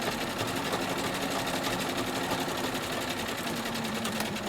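Sewing machine stitching a lockdown over a seam on a patchwork skirt pocket, a steady, continuous rapid whirring hum that stays even and close throughout.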